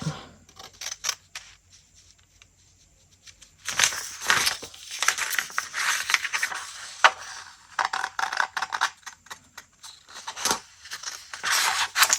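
Scissors cut around a paper sewing pattern for a sway back adjustment, giving bursts of crisp close snipping and paper rustle, quiet at first and then busier and louder, with no talking.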